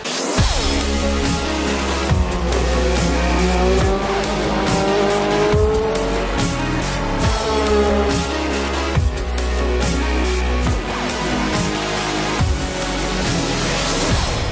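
A DTM race car at the Budapest circuit runs on full throttle, its engine howling loudly and continuously with repeated rising pitch sweeps through the gears, close and unbroken throughout.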